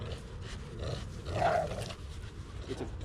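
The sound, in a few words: dog barking nearby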